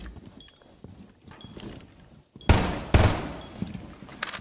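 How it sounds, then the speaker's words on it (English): Gunfire in the tactical shooter game Rainbow Six Siege, starting with quiet shuffling and faint movement, then two loud, sharp shots about half a second apart, followed by fading echoes and clatter. "He would have heard the gunshots."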